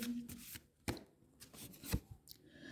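Tarot cards are shuffled and drawn at close range, giving quiet papery rustles and a few sharp card snaps and taps against a still background.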